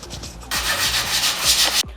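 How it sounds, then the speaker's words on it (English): Close, rhythmic rubbing strokes of wet sanding a painted bike with 1500 grit sandpaper, soft at first then a stronger gritty swish over the surface, stopping abruptly. "And I am doing wet sanding."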